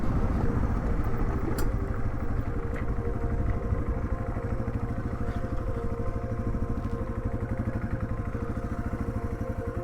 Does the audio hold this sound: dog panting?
no